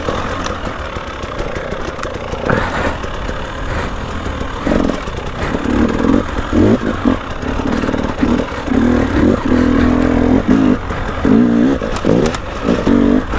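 An enduro motorcycle ridden hard off-road, its engine loud and close, blipping and revving unevenly with bursts of throttle and clattering over rough terrain, with no talk.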